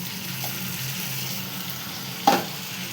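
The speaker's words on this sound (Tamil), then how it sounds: "சிக்கனை இதில் நான் ஆட் பண்ணிக்கிறேன்." Boiled chicken pieces drop into a pan and fry with a soft, even sizzle, broken near the end by a short louder clatter or splash, with no talking.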